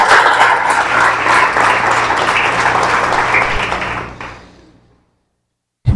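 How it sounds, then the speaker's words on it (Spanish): A church congregation bursts into loud, sustained applause during a sermon, dense clapping at full strength for about four seconds before tapering off into silence, with one sharp knock at the very end. "Aplauda a él, que se lo merece"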